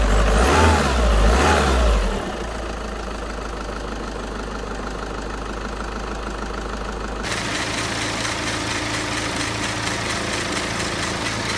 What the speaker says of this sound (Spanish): Si el árbol está chueco por un calentamiento, vibrará mucho.